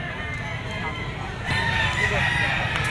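A rooster, a stag gamecock at a pet market, crows in a drawn-out call over a busy bed of market chatter and clucking fowl nearby.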